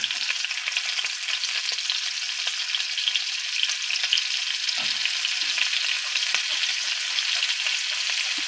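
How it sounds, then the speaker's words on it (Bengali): Onions frying in a pan, a steady bright sizzle with faint crackles and an occasional soft knock, heard alone at moderate volume. "আদা কুচি আর মরিচ কুচি সবগুলো একসঙ্গে আমি ভেজে নেব হালকা"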